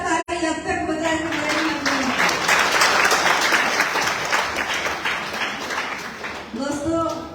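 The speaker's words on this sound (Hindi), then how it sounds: "मैं चाहती हूँ एक जोरदार और शानदार ताली अब तक बजाने" Loud, sustained applause from an audience at a stage show fills the space, dense steady clapping running for several seconds with a voice speaking briefly before and after.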